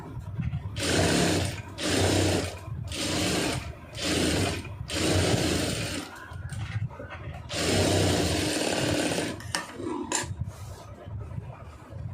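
A sewing machine stitches lining blouse pieces in loud bursts of rapid mechanical whirring, each lasting about a second or two, separated by short pauses, with a longer run in the middle.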